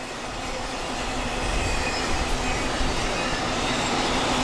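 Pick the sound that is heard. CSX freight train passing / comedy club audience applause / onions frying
CSX freight train passing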